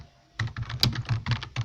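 Rapid bursts of keystrokes on a computer keyboard during a Laravel coding lesson, close and crisp, arriving in quick uneven clusters after a short silence with no voices.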